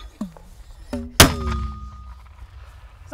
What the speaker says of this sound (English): Two mortar fire.